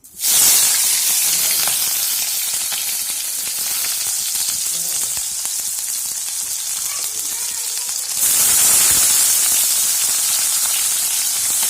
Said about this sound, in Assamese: কেৰাহী গৰম হ'ল এতিয়া পিঁয়াজ দিম